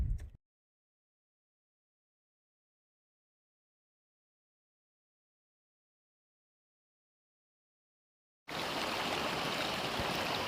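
A creek runs through a small snow patch in the Sierra Nevada along the Pacific Crest Trail. There is a brief splash of flowing water at the start, then silence, then a steady, close rush of water for the last two seconds.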